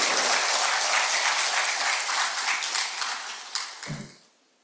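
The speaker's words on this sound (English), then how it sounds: "Give yourself a warm round of applause." A graduation-day audience applauds in a dense, loud burst of clapping that holds steady, then thins and fades out near the end.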